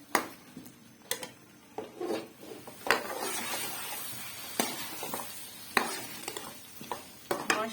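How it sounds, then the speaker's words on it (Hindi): Potatoes frying in a pan for aloo gobhi salan, a soft sizzle broken by repeated sharp clinks and scrapes of a spoon against the pan, irregular and close, without talking. "यहाँ पे आलू मेरे जो है अच्छे से फ्राई हो चुके हैं, भून चुके हैं"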